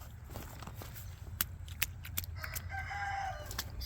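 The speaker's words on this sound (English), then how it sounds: "I'm gonna go over here and let these chickies out." Backyard chickens let out of their coop on a wet morning cluck and call at moderate distance over a steady low outdoor rumble, with a few sharp knocks or steps.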